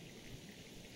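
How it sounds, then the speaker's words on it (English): Heavy rain falls in a steady, even hiss with no break, soft and distant, with no voices. "it's been raining this entire time"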